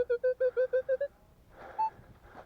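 A Minelab X-Terra Pro metal detector sounds eight short, evenly spaced tonal beeps in quick succession over about a second, then stops, leaving faint outdoor background with a brief tone.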